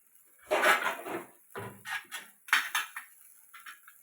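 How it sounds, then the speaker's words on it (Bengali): A lid is put on a cooking pot while a breakfast dish cooks. Several separate clinks and clatters of metal cookware are heard, close and fairly loud, with short quiet gaps between them. "ঢেকে দিচ্ছি"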